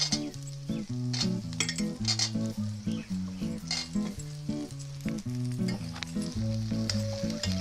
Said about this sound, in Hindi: अब इसको हम भून लेंगे अच्छे से।